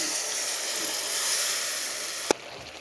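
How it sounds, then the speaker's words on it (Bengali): A ground spice paste sizzles as it is poured into frying onions, a continuous loud hiss that breaks off with a sharp clatter near the end, leaving only a quieter background. "সম্পূর্ণ মশলাগুলো ভালোভাবে গলায় নিচ্ছি, একসাথে করে নিয়ে এখন পেঁয়াজের ভিতর ঢেলে দিই।"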